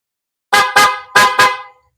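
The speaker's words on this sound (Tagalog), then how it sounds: "Busina." A PIAA aftermarket horn fitted to a Vespa Sprint 150ie scooter honks four short, loud, close blasts in two quick pairs, bright and brassy, with no voices.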